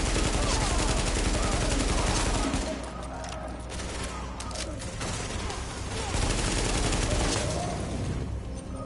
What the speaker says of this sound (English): that shooting, that was you, right?